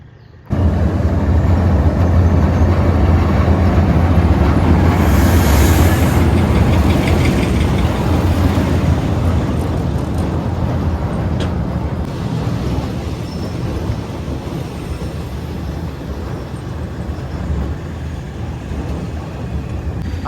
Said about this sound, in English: the train is now coming and crossing over the bridge of the River Kwai.